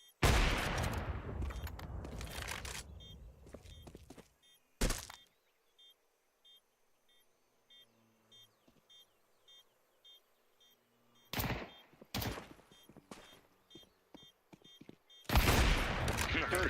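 Gunfire in a first-person shooter game, including sniper rifle shots, comes as several loud sharp cracks and bursts spread through the clip, with quiet stretches in between.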